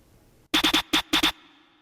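A snare drum fill in an FL Studio beat, six crisp hits in a quick broken rhythm, three, one, then two, each with a light reverb tail fading after the last strike.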